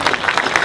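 Audience applause at the July 2017 Memorial Lane dedication in Granbury, where a crowd claps for city worker Aaron McLean: a brief, dense burst of steady clapping with no talk over it.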